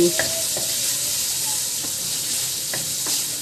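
Pork fat sautéing in a pan for dinuguan, a steady close sizzle and crackle with occasional light stirring clicks, continuous throughout with no talking.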